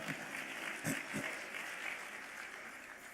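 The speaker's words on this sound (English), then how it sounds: "You can clap for that, okay, right." Steady applause from an audience, a broad even patter of many hands clapping that holds for a few seconds with a couple of brief louder bursts.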